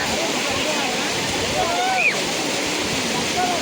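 Water rushes steadily down Chaparayi waterfall in a constant broadband roar, with faint bird calls or whistles rising above it.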